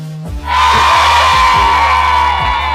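A large crowd at a public event in Glasgow in 1979 roars with loud, sustained cheering and yelling that swells suddenly and stays dense and close.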